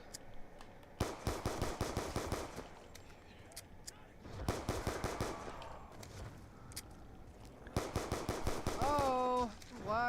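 Bursts of rapid automatic gunfire from Call of Duty: Black Ops 2, heard in several loud clusters with short gaps between them, with some game effects and background noise.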